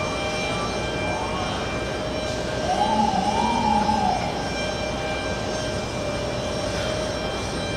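A jet airliner takes off from JFK runway 4 left, bound for Syracuse, its engine roar steady and loud with a rising whine that swells briefly mid-way, heard alone without talk.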